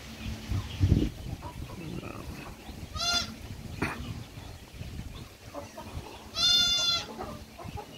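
Goats bleating, a native-breed mother and her upgraded kid, with a few loud harmonic calls standing out against rustling farmyard background noise.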